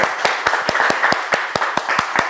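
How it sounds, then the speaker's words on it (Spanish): A small group claps in a loose, fairly quick rhythm, each sharp hand strike distinct and close, repeating steadily for a couple of seconds without talk. "Un aplauso, por favor."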